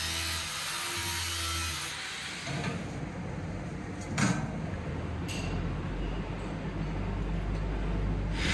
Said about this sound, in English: I'm cutting the rough shape out of the saw blade.